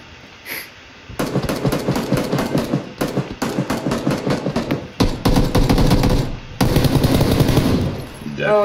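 Rapid automatic gunfire in a vehicle-combat video game, loud close bursts of repeated shots with brief pauses, with a faint voice early on.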